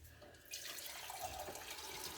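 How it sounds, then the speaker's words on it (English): Tap water starts running into a container in a home kitchen, a steady close splashing stream that begins abruptly and continues to the end. "We are just going to get some water right here."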